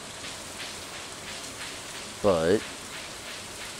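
Rain falling in Stardew Valley, a soft, steady patter of raindrops at low level, briefly interrupted by a single spoken word.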